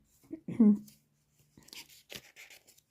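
Letters are written on a board in short scratchy strokes, coming in quick bursts in the second half after a teacher speaks briefly.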